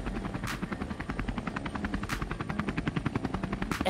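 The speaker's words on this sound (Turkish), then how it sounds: "Helikopter sesi nereden geliyor ya?" Steady thudding helicopter rotor chopping in Minecraft, continuous with game-like mechanical layers and a few sharp bursts, loud and close, no voices.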